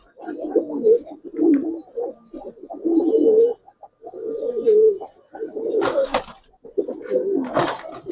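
Giribaz pigeons coo in repeated low, throaty bursts close by, one phrase after another across the stretch with short gaps, a couple of brighter rustles or flaps near the end.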